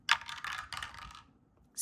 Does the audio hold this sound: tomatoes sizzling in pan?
no